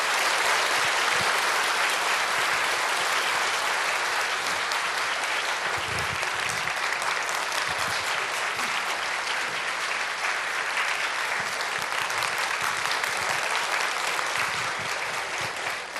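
Dense, sustained applause from a church congregation welcoming a guest speaker, many hands clapping at full strength for about sixteen seconds, loud and close with no voices on top.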